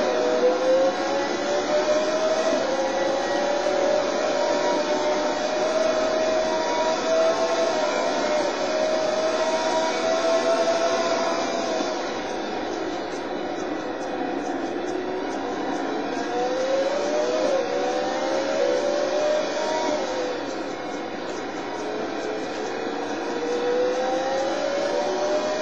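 In the racing game Total Immersion Racing, race cars pull away at the start of a race with a steady, loud engine drone, pitch sweeping upward through gear changes and easing partway through, with no talk over it.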